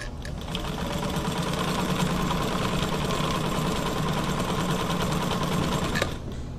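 A White 1044 sewing machine running at a medium speed setting, a steady close mechanical whir with rapid needle clatter for about six seconds before it stops.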